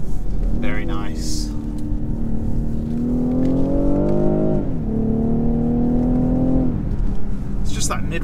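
A 2019 BMW X5 40i SUV engine pulls hard under acceleration, its tone climbing steadily, dropping briefly at a gear change, then rising again over continuous road and cabin noise.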